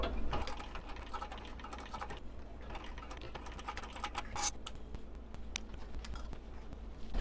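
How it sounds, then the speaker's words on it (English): A sewing machine top stitching along the exterior edge of a small fabric coin purse, running steadily in fast, even clatter for several seconds with a few clicks and no voices. "I'm going to top stitch along the exterior edge with 1/8 of an inch seam allowance, number 5 stitch length"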